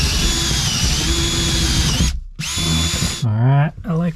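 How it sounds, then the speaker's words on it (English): A power drill bores a hole through the floor of an off-grid cabin, whining loudly and steadily, cutting out briefly, then spinning up again in short bursts that rise and fall in pitch. "hole in the floor that I'm going to drill right there"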